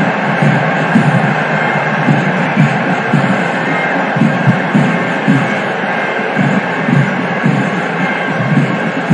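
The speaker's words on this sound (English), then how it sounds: "Viking claps all around." Football fans at the Santhosh Trophy final in Manjeri doing Viking claps, steady rhythmic thuds from a large stadium crowd under a continuous crowd roar.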